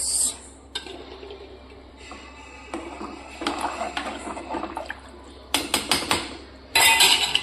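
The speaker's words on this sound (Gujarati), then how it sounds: "અને પછી કરી નાખું મિક્સ." A spoon stirs vegetables and ghee inside a metal pressure cooker, giving close, irregular scrapes and sharp metallic clinks that grow busier toward the end, with no talking.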